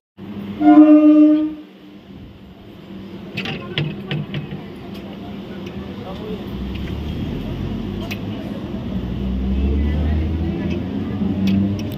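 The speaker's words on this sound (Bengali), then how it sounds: "এই হচ্ছে ট্রেন ঢুকে গেছে আমাদের" A train pulls into a station, opening with a loud sustained horn blast, then rumbling and rattling of carriages under scattered clanks as it rolls in; people talk nearby.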